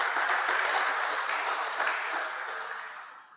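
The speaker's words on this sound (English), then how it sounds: "So I want to ask you just to give them a round of applause." Audience applause at a no-till farming conference, a dense burst of clapping that gradually thins and fades toward the end.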